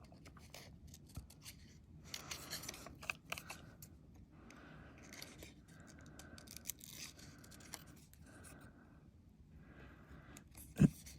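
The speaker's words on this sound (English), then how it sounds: "Let's fussy cut this Frida out a little bit neater." Soft snipping of scissors cutting out a magazine-page picture, a run of small crisp cuts repeating irregularly at close range, with a sharper click near the end.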